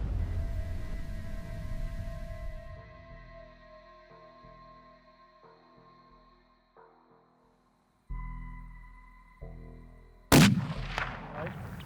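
A rifle shot rings out during a family hunt in New Zealand's high country, a single sharp, loud crack near the end following a stretch of quieter tonal background sound.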